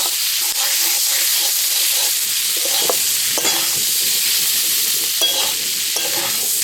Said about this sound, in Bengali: ঢাকনা খোলার পরে কুঁদরিগুলোকে এখানে আরও 2-3 মিনিট ভেজে নিয়েছি।